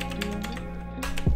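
A password is typed on a computer keyboard, giving a quick run of soft key clicks close by over a steady background hum, with no talking.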